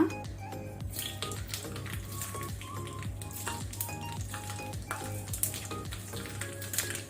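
Mustard seeds crackling and popping in hot coconut oil in a pan, a steady sizzle with scattered sharp little pops throughout and a few light clinks of utensils, no talking.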